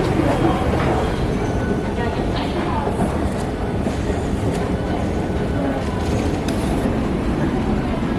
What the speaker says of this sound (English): MRT time.